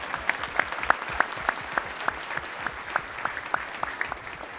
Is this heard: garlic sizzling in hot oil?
no